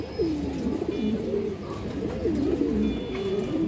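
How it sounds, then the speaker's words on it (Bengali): Pigeons kept as high-flying fancy breeds coo close by in repeated, throaty, rolling calls that rise and fall continuously over a soft background murmur. "খুবই চঞ্চল কবুতর দর্শক"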